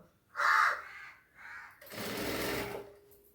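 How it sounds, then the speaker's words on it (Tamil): A crow caws three times nearby in quick succession, then a sewing machine stitching blouse piping starts up with a steady, busy whir. "காக்கா கத்துது."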